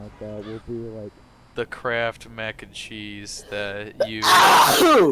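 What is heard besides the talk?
loud sneeze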